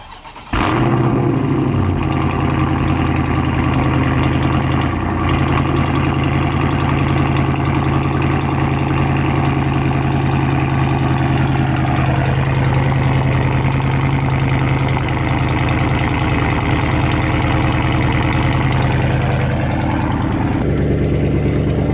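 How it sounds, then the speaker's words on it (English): Dodge Charger 392 Scat Pack V8 starting cold with a sharp crank and flare, then settling into a steady, loud, rumbling idle that holds for about twenty seconds, close by with no talking. "let's come around over here, give you guys a nice little cold start"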